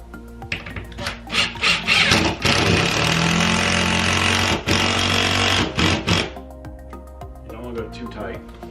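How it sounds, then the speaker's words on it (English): An impact driver with a socket drives lag bolts through a TV wall bracket, giving a loud rattling buzz in bursts of varying length, close by, broken by short pauses. "I'm gonna use an impact driver to impact these in with the socket"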